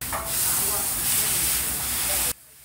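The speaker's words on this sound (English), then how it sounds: "It's a sizzling sight to see Doretha in action." Loud, steady sizzling hiss of a burger frying on a hot grill, continuous for a couple of seconds before cutting off abruptly.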